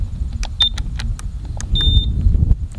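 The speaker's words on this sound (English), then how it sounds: "The long beep is centered." A RISE Vusion 250 race drone transmitter, with its trims being centered, gives a string of short electronic beeps and a longer steady tone, loud and close outdoors over a low background rumble.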